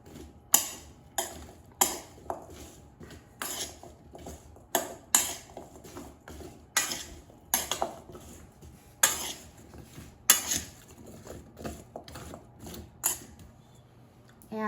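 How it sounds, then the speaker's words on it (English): Potatoes and carrots tossed with oil and seasonings in a bowl, a series of sharp clattering knocks and rustling shakes in irregular bursts, close by, separated by quiet pauses. "I'm going to toss. So the potatoes and carrots are coated with oil and seasonings"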